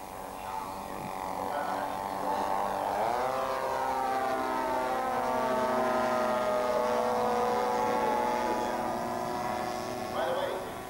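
A 1/5-scale Beechcraft D-18 giant scale model airplane with a 114-inch wingspan, weighing about 33 to 34 pounds, flies at a competition. Its engines give a steady droning whine that rises and falls in pitch as it passes at moderate distance.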